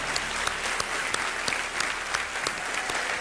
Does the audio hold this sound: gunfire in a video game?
no